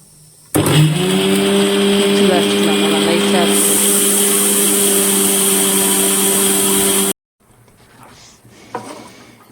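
A kitchen mixer grinder whirs loudly and steadily for several seconds, pulverizing coconut with curry masala powder for a white pumpkin kootu. It stops abruptly, leaving quiet room sound and a few soft clinks.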